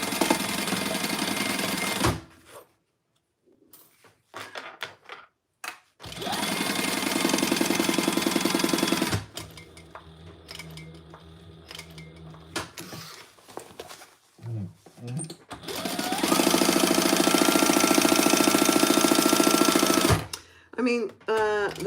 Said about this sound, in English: the fabricator doesn't have any problem sewing through two non-interface layers of it